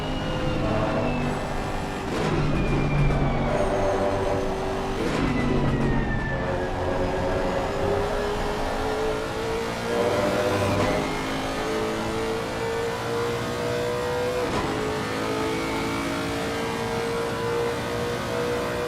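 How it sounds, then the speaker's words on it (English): On-board engine note of a Lexus GT race car lapping Silverstone, a loud, close howl that climbs through the gears in rising sweeps and drops sharply at each upshift, with no voices over it. "what a noise that Lexus makes"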